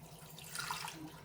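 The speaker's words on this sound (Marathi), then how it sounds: "आता आपण हे भांडं घेतलंय, यात मिनरल वॉटर टाकायचं" Mineral water pours briefly into a cooking pot, a faint splashing trickle that swells and fades over a low background hum.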